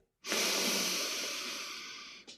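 A long, steady breath drawn in or pushed out close to the microphone, a single airy hiss-like exhalation lasting about two seconds with no voice.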